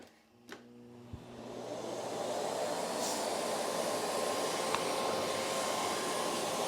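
A vacuum cleaner powered by a Ryobi 40V power station, starting softly after a couple of clicks and ramping up to a loud, steady roaring whine at maximum power.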